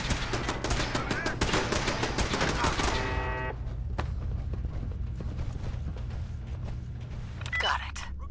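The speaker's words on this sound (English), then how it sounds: "We've got turrets ahead." Rapid automatic turret gunfire in Fallout 4 rattles loudly through the first three seconds, then gives way to quieter scattered bursts and game ambience.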